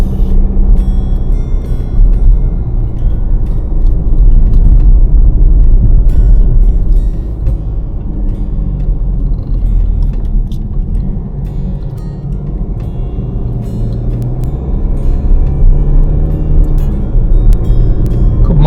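A car drives along a winding mountain road in Switzerland, a continuous low engine and road rumble from inside the cabin with small variations in tone and no one talking.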